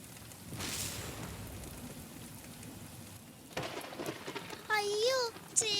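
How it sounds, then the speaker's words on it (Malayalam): Rain falls in a steady, moderate patter, followed by a child's excited speech and a swooping, sing-song voice over the rain near the end. "അയ്യോ ചേച്ചി, മഴ പെയ്യുന്നു."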